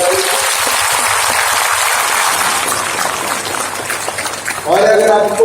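Crowd of village sarpanches applauds for someone at a Vibrant Villages Program gathering, a loud, even wash of clapping that fades toward the end as a voice begins speaking.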